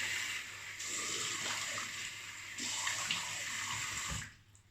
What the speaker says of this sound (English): Just do a quick cold water rinse